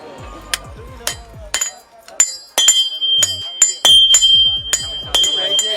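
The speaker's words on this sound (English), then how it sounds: "The guy is hitting as hard as he can with this hammer and hitting this tiny piece of metal every time" Hammer blows on a small piece of metal during hand-forging of knives at a market workshop, sharp ringing metallic strikes in an irregular rhythm, close by, with some clinking between hits.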